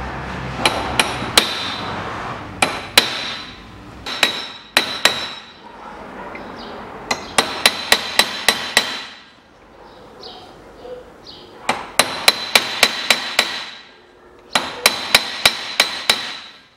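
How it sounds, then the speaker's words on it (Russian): A hammer strikes a center punch to stake a new air-conditioning compressor bearing on a 2001 Nissan X-Trail: sharp metallic taps in quick runs of several blows with brief pauses between groups, loud and close. "Сейчас берем и керном здесь его закерним."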